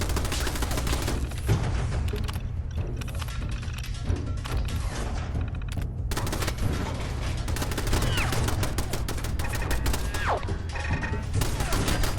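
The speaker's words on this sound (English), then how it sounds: "Did not mean to turn on turrets." Automated turrets in the video game Fallout 4 firing guns, dense rapid bursts of gunfire over a low droning game background, continuous and loud.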